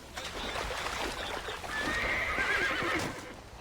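Horses neigh and whinny in the Red Dead Redemption video game, with a loud shrill whinny rising near the middle among clip-clopping hooves and a steady outdoor background.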